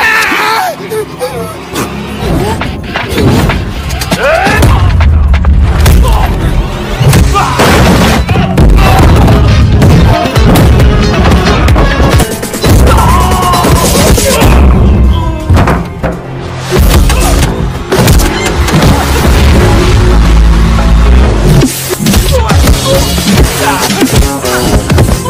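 A film battle scene erupts with loud booms, crashing impacts and bursts of gunfire, dense and continuous, with voices mixed in among the explosions.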